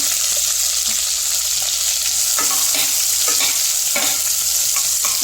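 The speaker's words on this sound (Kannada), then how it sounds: "ಎರಡು ನಿಮಿಷ ಫ್ರೈ ಆಗಲಿ" Beans and curry leaves stir-fry in a hot pan, a loud, steady sizzle with quick, repeated scraping strokes from the stirring.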